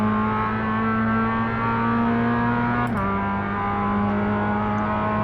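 Production race car in iRacing braking hard for a hairpin, a steady loud engine drone that drops sharply in pitch partway through as it downshifts, then holds a lower hum.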